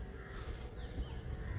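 Crows caw in the distance, a few harsh calls over a steady low outdoor background.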